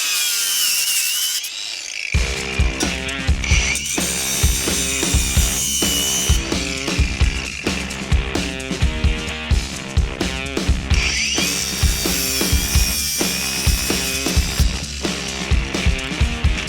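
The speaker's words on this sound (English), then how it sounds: "the Makita cordless grinder that I got" Makita cordless grinder cutting or grinding material, a loud close high-pitched whirring with repeated rhythmic scraping bursts as the tool bites into the workpiece, starting after a short lead-in.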